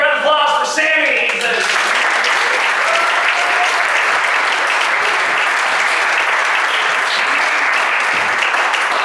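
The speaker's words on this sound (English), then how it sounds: "So please give a big round of applause for Sammy." A theater audience at a live comedy show at the Orpheum Theater breaks into loud, sustained applause that fills the room after a brief voice at the start.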